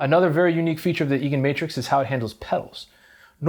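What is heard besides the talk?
No distinct noise like a dog, phone or traffic.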